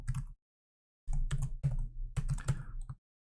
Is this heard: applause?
no